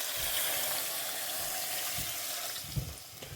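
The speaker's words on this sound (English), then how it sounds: "Now I will add the water. I want 1 litre. So adding the first 500 mils." Water pours into a pot of browned meat for Burmese soup, hissing and sizzling as it hits the hot base, with a steady rushing wash and a few splashes near the end.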